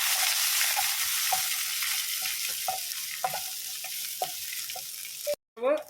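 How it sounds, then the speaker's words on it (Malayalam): Grated coconut roasting in a pan for Kerala pumpkin and bean erissery, a dense, steady crackling sizzle with regular light scrapes of stirring, close up, ending in a short gap and a brief clatter. "ഒരു പിടി തേങ്ങയും കൂടെ ഒന്ന് മൂപ്പിച്ചെടുക്കാം. ബ്രൗൺ കളർ ആകുന്നിടം വരെ ഒന്ന് ഇളക്കി കൊടുക്കാം."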